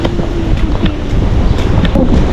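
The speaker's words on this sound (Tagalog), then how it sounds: "Lakas ng hangin." Strong wind gusting steadily against the microphone outdoors during a stormy day in Spain, a continuous loud rumbling buffet with a faint voice barely present beneath it.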